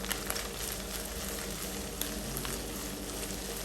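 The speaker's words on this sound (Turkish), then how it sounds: "Tavayı sallayarak bu şekilde bütün köftelerin eşit bir şekilde kızarmasını e, sağlayabilirsiniz." Small meatballs frying in oil for a minced-meat soup, the pan shaken so they brown evenly; a steady close sizzle with faint scattered clicks of the meatballs rolling and popping, no talk.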